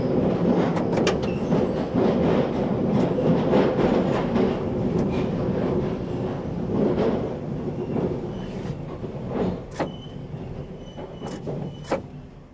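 A London Underground Bakerloo Line train rumbles through London Road Depot, with clattering wheels and several sharp squeals and clicks from the track, steady and close.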